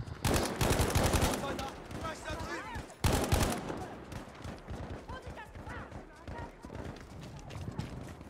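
Enemy gunfire in an aerodrome combat video game, repeated shots and bursts scattered through the clip, mixed with clattering effects and steady game noise under talk.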